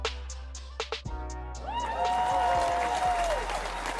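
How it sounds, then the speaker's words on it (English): Applause opens a podcast episode, a brief burst of clapping that gives way to tonal sweeps and musical sound. "I love the applause."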